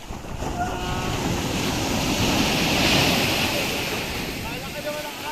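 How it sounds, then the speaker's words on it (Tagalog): Ocean waves rush and break close by under steady wind noise, a continuous loud wash that swells slightly in the middle, with faint voices underneath. "Malaki naman ang alon!"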